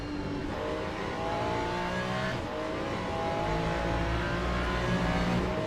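Race car engines drone and wail continuously in Le Mans Ultimate, a Toyota Hypercar among the pack, several engines layered at high revs with shifting pitch as cars pass, steady and fairly loud throughout.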